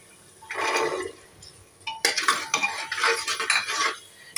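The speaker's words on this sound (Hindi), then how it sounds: "अब डालेंगे इसमें ये मटर" Fresh green peas tipped into a pan of frying tomato, garlic and spice masala for an aloo matar curry, with a scraping, clattering burst followed by repeated stirring and metal-on-pan scrapes, close and fairly loud.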